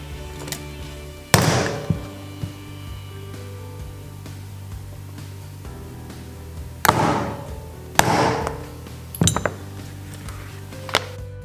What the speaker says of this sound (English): so I can punch holes in the bag and then set my rivets